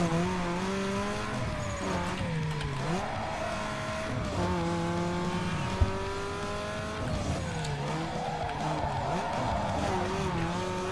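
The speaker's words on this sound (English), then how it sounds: "Yeah, that's how you drift" A street car drifts in NFS Underground 2, sustained loud tire squeal wavering over a revving engine for the whole stretch, with no voice over it.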